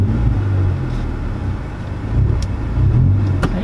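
Wide-body Honda S2000 with a new race clutch pulling away in first gear, a steady close engine rumble that swells slightly as it moves off, with no talk over it.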